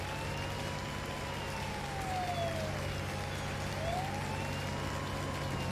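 Emergency sirens in the Farming Simulator video game, wailing tones rising and falling continuously over a steady low engine-like hum, with no talking.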